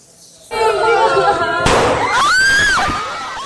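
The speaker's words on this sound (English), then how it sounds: "A loud bang. And another." Two sharp, loud gunshots ring out in a primary school in the central Philippines, the second followed by children's high-pitched panicked screams.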